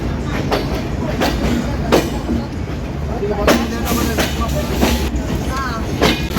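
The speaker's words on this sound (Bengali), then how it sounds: "স্টপেজ দিয়ে ছেড়ে যাচ্ছে খুলনাগামী সাতশো ছাব্বিশ ডাউন সুন্দরবন যশোর জংশন থেকে" The 726 Down Sundarban Express intercity train, bound for Khulna, pulls out of Jessore Junction with a loud, steady rumble, rhythmic clickety-clack of wheels over rail joints and brief wheel squeals nearby.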